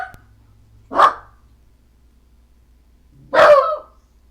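Two sharp barks from a small wiener dog, spaced a couple of seconds apart, loud and close with quiet low hum between them.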